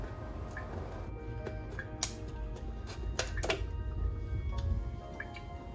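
A plastic yogurt container is cut at an angle on its corner to make a small diamond-shaped hole, heard as a scattered run of crisp, close ticks and snips over a soft, rumbling background.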